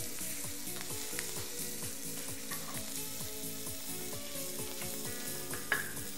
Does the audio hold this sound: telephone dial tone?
no